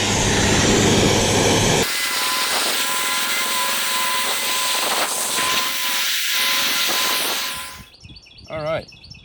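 Lead being melted down in melting pots while casting egg and bank style fishing weights, giving a steady close hiss with a brief scraping clatter near the end.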